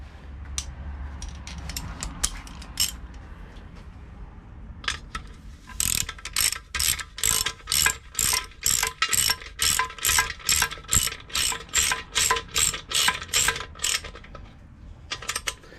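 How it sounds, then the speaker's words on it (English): A socket ratchet turns a bolt on a Mini gearbox, with a few scattered clicks followed by a long, steady run of close, sharp ratcheting clicks in even strokes. "Get a socket, a ratchet rather."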